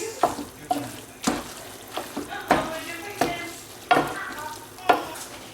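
Hot pasta stirred into a sizzling lobster and tomato sauce, with wet scraping strokes coming roughly once a second over a steady close frying hiss.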